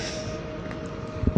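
A train at Inowrocław station gives a steady, close rumble with a faint tonal whine running through it and a few heavier clunks near the end, with no talk.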